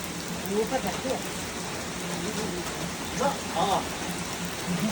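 Rain falls steadily nearby, a soft continuous patter with voices talking briefly in the background.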